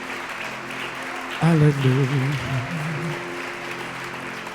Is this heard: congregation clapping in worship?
yes